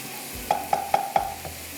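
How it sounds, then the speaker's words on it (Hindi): Spoon stirring and scraping a mixture seasoned with black pepper and salt in a pan during dessert preparation, about four evenly spaced clinks close up, with a faint sizzle underneath and no talk. "और यहाँ पर इसी से हम इसको थोड़ा सा भून लेते हैं।"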